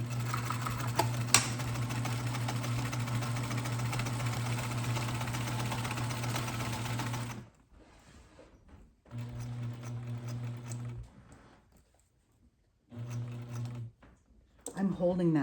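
A sewing machine stitches a half-inch seam around a Christmas table runner, running steadily for several seconds, then stopping and restarting in shorter bursts with quiet pauses between.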